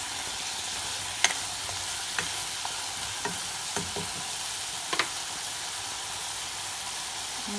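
Vegetable white curry with potatoes being stirred in a pot after lime juice is added, a soft continuous simmering sizzle with several sharp spoon taps and scrapes spaced out over a few seconds.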